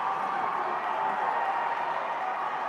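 Crowd at a high school state championship volleyball match roars and cheers after a hard-fought rally, a dense, steady wash of many voices that holds at an even level throughout.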